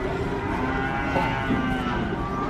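A cow bellows close by during unloading from a truck, its low moo carrying over outdoor background noise with no speech.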